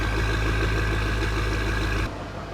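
BMW M5 with a valvetronic titanium exhaust, engine running with a steady loud drone and turbo whoosh, then dropping sharply in level near the end.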